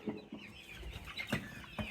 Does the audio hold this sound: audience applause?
no